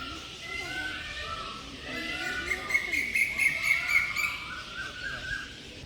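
Birds chirp and call continuously at a bird and reptile park, with the chirps growing busier and louder midway. Tweets overlap into a dense chorus with some background chatter.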